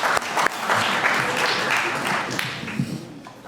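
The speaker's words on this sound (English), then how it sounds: "Give them a round of applause for taking their time tonight." An audience at a Chazaq evening event applauds the matchmakers, dense continuous clapping that fades slightly toward the end.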